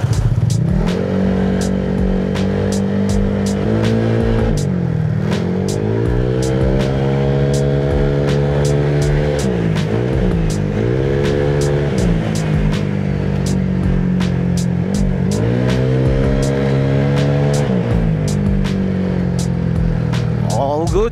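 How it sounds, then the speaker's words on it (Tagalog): A Honda Click 175cc scooter rides on the road after fresh engine and gear oil, its engine revving up and easing off in repeated cycles with shifting pitch, steady and close throughout. "ikot ko muna yung motor ko"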